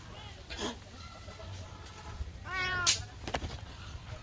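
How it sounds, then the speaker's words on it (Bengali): A cat resting in a village yard lets out several short, plaintive meows, one drawn-out call in the middle and a quicker one after, fairly soft against quiet outdoor background. "এখানে এই যে দেখতেছি একটা ম্যাও বসে রেস্ট নিচ্ছিল, তো আমাকে দেখে একটু ডাকাডাকি করতেছিল"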